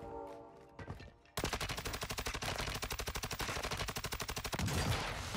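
Rapid automatic gunfire from the video game Call of Duty: Warzone rattles in a long, fast burst of evenly spaced loud shots after a brief quieter moment, close and dominant.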